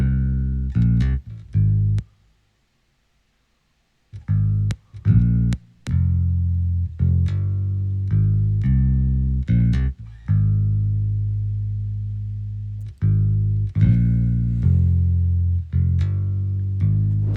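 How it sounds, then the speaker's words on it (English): Plucked sampled picked bass guitar notes with a firm picked attack, playing a steady rhythmic line that stops for about two seconds, then resumes. "I went to ample next and got a picked bass. That sounds like this."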